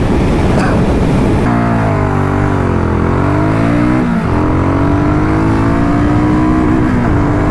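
A Triumph Speed 400 and a BSA Goldstar 650 motorcycle accelerating hard on the road, the engine note climbing steadily with a gear change midway, heavy wind roar over the close engine sound.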